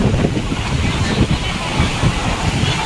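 Surf rolling onto a sandy beach at Udaipur near Talsari, a steady broadband wash of breaking waves with heavy wind buffeting on the microphone, continuous and fairly loud without clear individual wave crashes.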